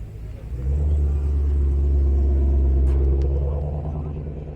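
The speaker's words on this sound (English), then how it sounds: "Here comes a super duper Ford Mustang." A Ford Mustang rolls past at a Las Vegas car show, its deep engine rumble swelling in close and loud, holding steady, then easing off as it moves away.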